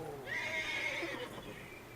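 A horse in a Western open-world game gives a single clear whinny lasting about a second, rising then trailing off, with faint hoof-like shuffles and a low background bed.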